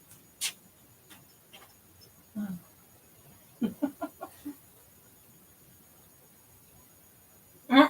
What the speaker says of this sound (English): Oh, we got some angry crows tonight.